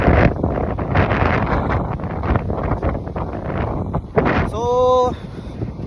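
Strong, bitterly cold wind at about minus fourteen degrees in Chilliwack, British Columbia buffets the microphone in loud, rumbling gusts, with a voice speaking briefly over it and a short tonal whistle near the end.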